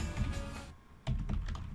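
Typing on a computer keyboard while entering Nmap commands in a terminal: a close, steady run of quick key clicks, a brief near-silent pause, then another burst of keystrokes.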